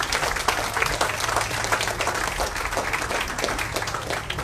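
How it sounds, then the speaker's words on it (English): An audience at a solidarity gathering for George Floyd claps together, dense applause that holds steady and fairly loud throughout with no pauses. "why don't you give yourself a round of applause real quick"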